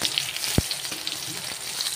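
Rohu fish curry cooks in a kadai wok in a home kitchen, with continuous sizzling and spattering and a single sharp knock partway through, with no talk over it.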